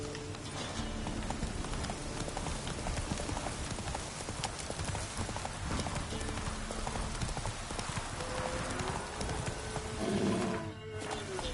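Galloping horse hooves in The Witcher 3 video game beat out a rapid, steady clip-clop rhythm throughout, with a brief whinny-like call near the end and faint game sounds underneath.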